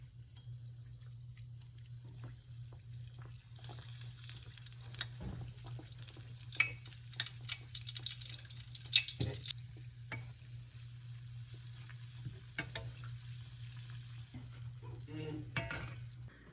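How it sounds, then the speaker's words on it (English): Canned biscuit dough fries in oil that sizzles and crackles quietly at a low steady level, with occasional stirring and light clinks from a pan. "if it starts to sizzle, then your oil is ready"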